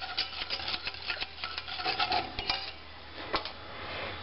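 A utensil scrapes and rubs in a pan as flour-and-fat roux is worked to remove lumps, giving irregular quick scraping strokes, fairly soft and close, with no talking.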